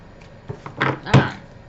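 A brief riffle of cards being shuffled close by, two quick bursts of papery flutter and a soft tap.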